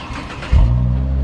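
Cadillac ATS-V started with a key: a brief hiss, then the engine catches with a sudden loud burst and settles into a strong, steady low idle, close by with no talk.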